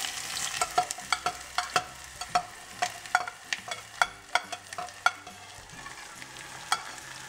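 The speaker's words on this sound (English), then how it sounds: "now we're going to put everything in and we're going to let it sizzle." Hot pot dipping sauce ingredients sizzle and crackle in hot oil while a utensil taps and scrapes the pan in an irregular stirring rhythm.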